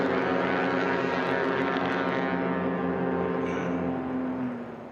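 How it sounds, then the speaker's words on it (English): Cessna 180 Skywagon heavy haulers, one with a 550 engine and one with a 470, roar at full power during a STOL drag race, a loud steady droning engine and propeller sound that eases slightly at the end, with no talk. "have the heavies that we've got Warren G and Ty Burlington back out in these 180 Skywagons battling it out."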